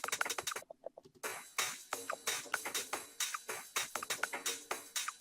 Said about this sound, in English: some like funky house loop